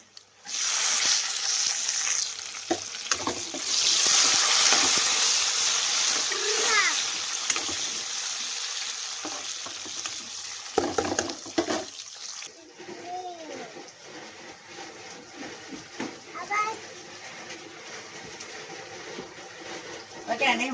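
Curry masala with tomato sizzles in a frying pan while chicken curry is cooked, a hissing, spattering fry that swells and fades as someone talks over it at length.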